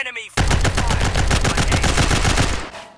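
Rapid minigun and sniper rifle fire in the roguelike looter-shooter game Last Heli, a loud, dense burst of evenly spaced shots that runs for over two seconds after a short lead-in and then cuts off.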